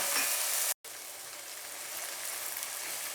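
Masala paste with added water frying for a rajma curry, a steady close sizzle with a brief dropout near the start, no voices.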